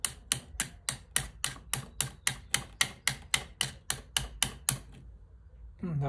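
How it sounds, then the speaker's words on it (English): About seventeen close, sharp hammer taps drive a spring onto a Badeco Swiss duplex spring-hammer dental handpiece, struck in an even, rapid rhythm before stopping, followed by a brief low hum. "Might take a hammer and just like try hammering it."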